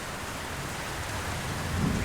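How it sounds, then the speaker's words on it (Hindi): Heavy rain pouring steadily in a loud, dense wash, with a low rumble of thunder swelling toward the end and no voices. "2 दिन लगातार ऐसे ही तेज बारिश चलती रही।"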